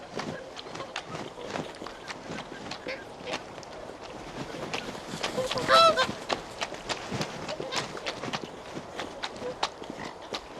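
Whooper swans call during a territorial fight, with loud, repeated honking bursts in an irregular rhythm, splashing and scuffling, and a voice talking over them.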